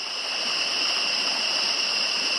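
Small waterfall on a creek along a Queensland hiking track, about three metres high on a slight slope, giving a steady, close rushing flow of water with no breaks.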